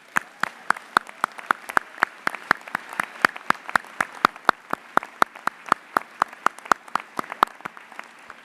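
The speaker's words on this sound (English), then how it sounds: "please take a moment now to offer those honorees a round of applause" Applause from a commencement audience at a graduate ceremony honoring award recipients: a steady run of crisp, evenly spaced claps lasting several seconds, moderately loud with no talking.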